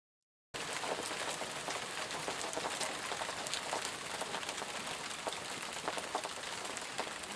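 Rain falling steadily outdoors, a dense even patter of drops on surfaces that begins abruptly after a moment of silence and continues unbroken at a soft, constant level.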